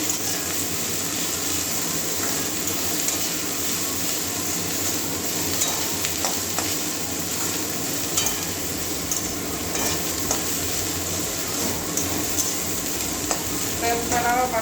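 Onions frying in a pan for a Bengali cabbage-leaf paste dish, a steady close sizzle with stirring scrapes throughout, no talking.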